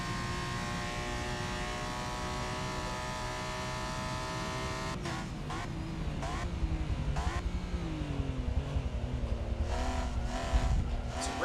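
A race car in Forza Motorsport drives a hot lap on warming tires, its engine droning steadily, then revving and shifting through rising and falling pitches with brief gear-change breaks, loud and continuous throughout.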